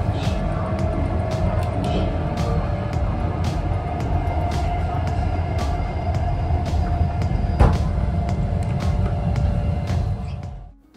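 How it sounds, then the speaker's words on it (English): Inside a moving Hayabusa bullet train in Japan, a steady low roar and hum with regular clicks from the rails, fading out at the end. "Train ride from Shinjuku train station in Tokyo took about 4 hours"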